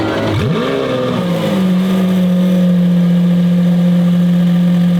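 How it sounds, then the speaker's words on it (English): A new Lamborghini Countach engine cranks and fires up with a sharp rising rev, then settles into a loud, deep, steady idle close by. "new Countach getting started"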